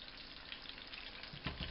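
Onions cooking in a pan, a soft, continuous hiss of frying under a faint background, with a couple of slightly louder stirring scrapes near the end.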